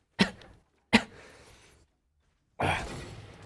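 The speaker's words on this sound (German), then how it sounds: "Erstmal hier Keuchhustenanfall und so." A coughing fit with two sharp close coughs, a pause, then a longer raspy breathy cough.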